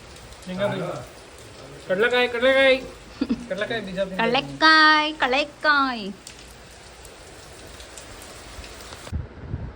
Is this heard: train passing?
no